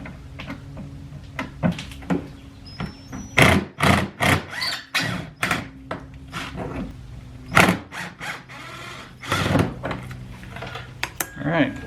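Torx bolts being removed from the rear inner fender liner of a 2011-2017 Chevrolet Equinox, with a run of loud close metallic clanks, taps and thuds from tools and parts, some sharp bursts clustered between.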